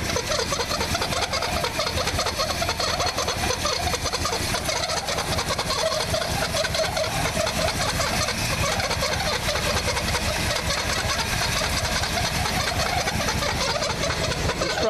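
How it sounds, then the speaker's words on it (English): A steady, continuous squeal comes from the power steering pulley of a 1966 Chrysler 300 coupe with a 383 big block, layered over the engine's constant running drone, with no talk. "That's the power steering pulley doing that."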